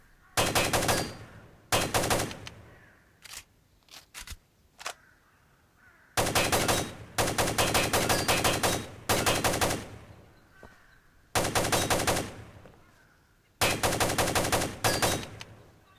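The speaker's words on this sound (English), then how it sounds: "Today we have an AK-47, and we're out on the firing range where we can easily shoot up some targets with no issue." Bursts of AK-47 automatic fire at a firing range in the video game Ground Branch, loud sharp volleys of varying length separated by short pauses, with a few single shots in between.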